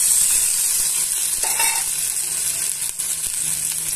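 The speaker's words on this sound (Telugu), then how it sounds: "ఇప్పుడు ఇందులోనే తరిగి పెట్టుకున్న ఉల్లిపాయ ముక్కల్ని పచ్చిమిరపకాయ ముక్కల్ని యాడ్ చేసుకోవాలండి" Chopped onions and green chillies hitting hot oil in a pan give a loud, steady hiss and crackle that holds evenly for a few seconds, with a brief scrape partway through and no talking.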